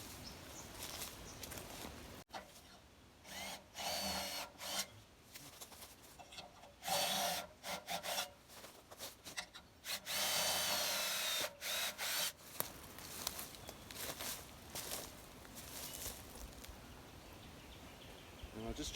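A power drill drives roofing screws into wood at an off-grid chainsaw lumber mill setup, in several loud bursts of grinding whir separated by quieter pauses and handling noise.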